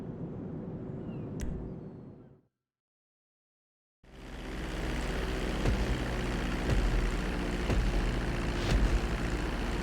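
A propeller plane in GTA 5 drones steadily at full throttle during takeoff, loud and close. The sound cuts out briefly to silence, then returns as a broad rising engine roar.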